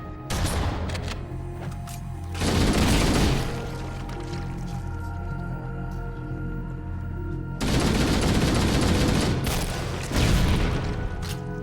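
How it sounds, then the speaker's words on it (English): Explosions and gunfire in the video game Halo: Combat Evolved come as dense, loud bursts of firing and booming blasts, with two stronger surges and a continuous rumble between them and no talking. "I don't know what caused that secondary explosion"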